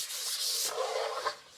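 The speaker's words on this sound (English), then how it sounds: "The surface is pretty nice and smooth, but you still want to give some light sanding." Light hand sanding across a smooth wood surface sealed with shellac: close, steady abrasive rubbing strokes with a slight swell near the end, no voices.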